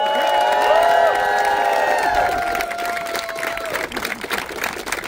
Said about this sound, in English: can I get a big round of applause for Kate?